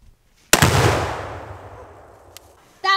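A gunshot sets off an exploding target outdoors: one loud, sharp blast close by, its boom rolling off over a couple of seconds, followed by a brief softer pop.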